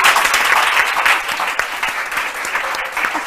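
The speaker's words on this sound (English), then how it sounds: "That's why I expected you to clap." A TV studio audience on a Ghanaian talk show breaks into loud, sustained applause, a dense wash of clapping that holds steady and then thins slightly toward the end, with no speech over it.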